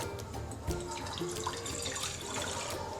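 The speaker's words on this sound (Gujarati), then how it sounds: "હવે આ પાણીને આપણે જેમાં લોટ તૈયાર કરવાનો છે તેમાં એડ કરી દઈશું." Melted jaggery water is poured into a pan of flour, a brief close stream of splashing liquid that flows steadily throughout without voices.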